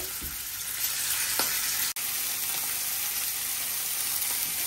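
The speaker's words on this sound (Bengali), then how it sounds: "এই যে এখন মাছটি ভেজে নিই, তেল গরম হয়ে গেছে" A fish frying in hot oil in a home kitchen, giving a steady moderate sizzle with a few sharp pops and one brief dropout, no voices.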